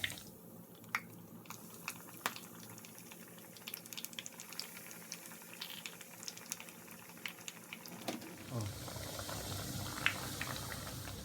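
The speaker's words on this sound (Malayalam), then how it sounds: "ഇനി ഇത് നമുക്ക് ഡീപ്പ് ഫ്രൈ ചെയ്തെടുക്കാം." Egg and breadcrumb coated stuffed bread snacks deep frying in hot oil, a soft continuous bubbling sizzle with scattered crackles and pops, fairly quiet and steady, getting louder and denser near the end.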